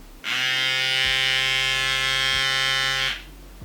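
A small battery-powered electric lip plumper buzzes loudly and steadily for about three seconds, switching on abruptly and cutting off, with a bright whirring hum.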